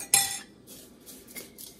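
Metal baking pans for a homemade cheesecake are handled in a kitchen, giving a sharp clank followed by a few lighter knocks and clinks with quiet gaps between them.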